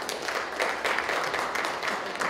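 Applause from the audience at a Rotary club charter ceremony in Cheongju, a steady mid-level patter of many hands clapping with no voices over it.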